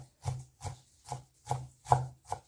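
A knife chops through vegetables on a board for cashew chicken, six evenly spaced thuds about half a second apart, close and clear with no talking.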